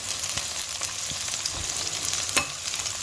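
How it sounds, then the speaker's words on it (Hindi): Fish frying in butter in a pan, a faint continuous crackling sizzle with a few light taps and one sharper clink, nothing else heard. "फ़िश को हम फुल फ्राई करेंगे"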